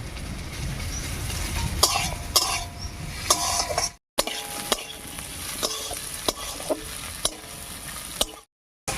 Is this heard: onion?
yes